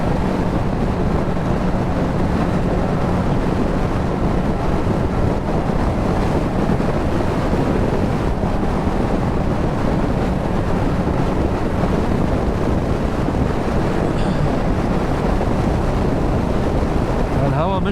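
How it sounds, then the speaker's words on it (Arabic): Strong wind buffets the microphone by the sea on the road toward Suez, a loud, constant roar and rumble with waves washing beneath it, unbroken throughout. "الهوا مش لطيف خالص."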